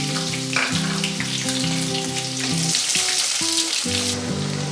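Sliced onions frying in about three spoons of hot mustard oil with green cardamom, cloves, cinnamon and bay leaves for chicken kosha, a steady close sizzle and crackle with no one speaking, a soft melodic tone running underneath.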